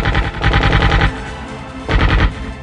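Machine gun fire in a commando raid on terrorists at launch pads, two loud sustained bursts of rapid automatic shots, close and harsh, separated by a short gap.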